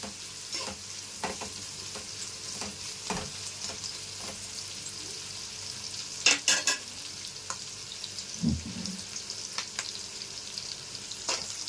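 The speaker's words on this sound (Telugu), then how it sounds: "ఉల్లిపాయలు కొంచెం ఎర్రగా వచ్చేంత వరకు వేయించుకోవాలి" Sliced onions fry in oil for a restaurant-style white mutton biryani, a soft continuous sizzle with occasional spatula scrapes and stirring knocks in the pan, no voices.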